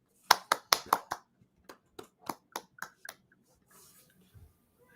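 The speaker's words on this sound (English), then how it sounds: "a round of applause for the accomplished Robert Jeffrey." Scattered hand claps from a small group, a quick burst of several sharp claps followed by slower, sparser ones that trail off into quiet room sound at a podcast recording.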